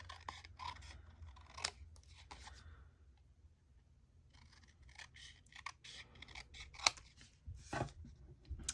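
Scissors snip through a paper sentiment for a handmade pop-up corner fold card in quiet, scattered cuts with rustling paper between them, close up and soft.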